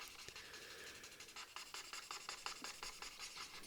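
A colourless blender alcohol marker rubs on paper in quick, rhythmic short strokes, a faint, close scratchy swishing with no voices.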